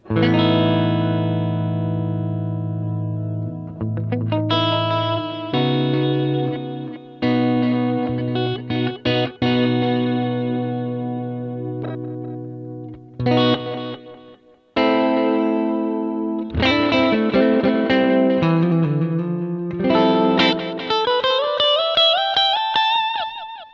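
An electric guitar runs through the Binson drum echo delay of a BOSS GT-1000 multi-effects unit, playing sustained chords and single notes whose repeats trail away, with distorted, chorus-like tones throughout and no talking.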